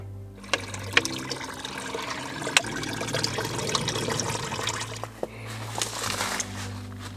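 Water from a mountain spring in Mallorca trickles and splashes into a container, a steady running flow with a few sharp knocks and clinks along the way.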